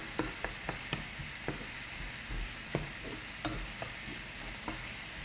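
Bitter gourd (ampalaya) and tomato fry in a pan with a soft, steady sizzle, punctuated by scattered light clicks and taps of a utensil.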